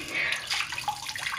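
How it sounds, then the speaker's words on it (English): Water poured from a bottle over a toy squid in a sink, a short splashing trickle that starts and stops in uneven bursts, close and moderately loud. "So now we're just gonna pour water over him."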